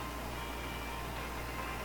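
A room air conditioner runs with a constant broadband hiss and low hum, steady and unchanging throughout the brief stretch, with no voices.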